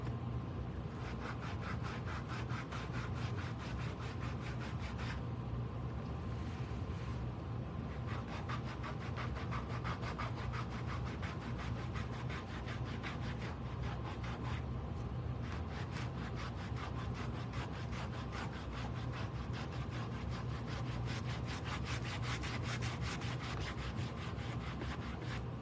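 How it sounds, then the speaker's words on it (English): A new power sander works steadily over a wooden piece for a craft project, giving a continuous loud whirring grind with a constant motor hum that runs without pause the whole way through, with no talking. "So let's start with a new sander."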